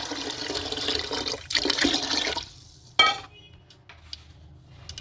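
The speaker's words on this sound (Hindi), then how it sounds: "चने बॉईल करने हैं, इसके लिए हम 2 गिलास पानी डाल देते हैं।" Water splashes and gushes into a metal pot for a couple of seconds as water is added to boil chickpeas, followed by a clank of the vessel and quieter clinks.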